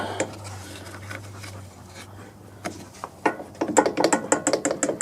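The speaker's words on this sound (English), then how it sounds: "Let me jiggle the carburetor here and see." A loose carburetor on a Honda lawn mower is jiggled by hand, first giving a low hum and a few scattered clicks, then a rapid burst of rattling metallic clatter near the end, close up.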